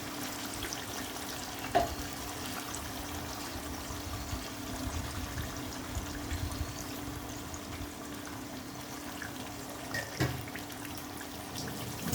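Ground onion paste frying in a pan for a mutton dak bungalow curry, a soft steady sizzle with a couple of faint clinks of stirring, quiet and continuous throughout.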